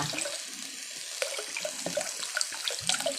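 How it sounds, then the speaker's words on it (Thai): A little water pours into a pot of Isan beef skin curry (gaeng om), making a close, continuous splashing trickle with small bubbling accents. "เขาก็สิเติมน้ำลงไปนิดนึง"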